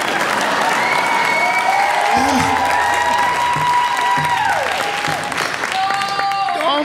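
A theatre audience at a live comedy show at the Enmore Theatre applauds and cheers loudly and continuously, dense clapping with whoops on top and a few voices shouting over the steady roar throughout.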